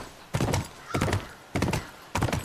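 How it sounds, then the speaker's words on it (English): Horse hooves thud at a steady gallop as a rider travels on horseback through a campus in The Last of Us, four heavy, evenly spaced hoofbeats standing out close and clear with no talking. "All right, we're on horseback."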